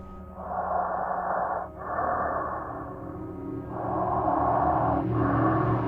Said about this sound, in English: The breathing got louder, as if whoever or whatever it was coming closer.